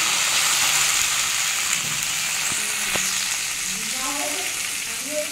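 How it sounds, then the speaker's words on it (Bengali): Steady loud sizzling of potatoes frying in hot oil after garlic, a constant crackling hiss with a few clinks and scrapes of stirring. "রসুনটা আমার ভাজা হয়ে গেছে, আমি এবার আলুগুলো ভেজে নেব। আলুগুলো দিয়ে দিলাম।"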